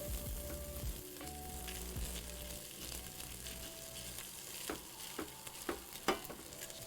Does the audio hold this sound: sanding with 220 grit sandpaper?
no